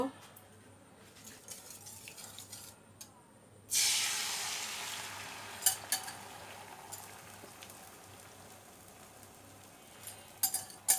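An egg poured into a hot oiled frying pan breaks into a sudden loud sizzle after a quiet moment, then settles into a steady hiss with a few sharp crackles.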